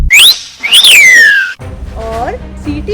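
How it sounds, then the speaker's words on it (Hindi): Two loud, sharp whistle blasts with rising and falling pitch, followed by a quieter stretch with a voice and a short tonal slide. "तब रंगीला ने जोर से सीटी बजाई"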